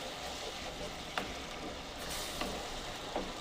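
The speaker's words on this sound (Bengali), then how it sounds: "এই দেখুন মশলাটা কীভাবে কষাচ্ছি কি সুন্দর লাল হয়ে যাচ্ছে" Spice paste sautés in a little oil for a cauliflower dish, giving a soft continuous sizzle with a few sharp scraping strokes of a spatula against the pan, quiet and close, with no talking.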